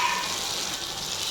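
Pieces of bottle gourd fry in hot oil with a steady, close sizzle throughout, a constant bright hiss with no voices present.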